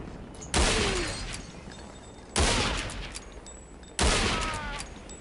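Sniper rifle shots during a sniper duel in a video game: three loud, sharp cracks spaced roughly two seconds apart, each trailing into a long echoing decay.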